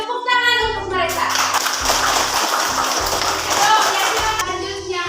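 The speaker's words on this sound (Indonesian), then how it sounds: "Tepuk tangan untuk mereka" A class of fourth-grade pupils at SDI Kalo claps together, a dense burst of applause lasting about three seconds over a low hum, with children's voices nearby before and after.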